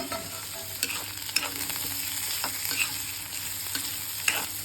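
Garlic cloves fry in a pan of oil for a Tamil-style beetroot chutney, giving a soft, steady sizzle with scattered light crackles and clicks of stirring, close and fairly quiet, no talking.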